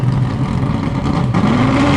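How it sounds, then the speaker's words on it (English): A toy car app on an iPad plays a car engine revving effect, a close, steady motor drone that rises in pitch toward the end, heard alone for two seconds. "It's going to do the revving up thing there."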